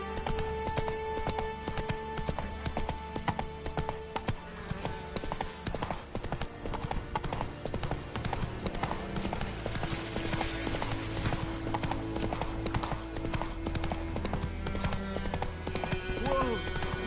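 Horse hooves clip-clop in a steady galloping rhythm in The Witcher 3, loud and close, with music and occasional game voices layered beneath.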